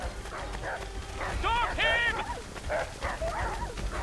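Dogs in Assassin's Creed 3 bark in a short cluster of sharp, loud barks at mid distance, with a person talking over and around them.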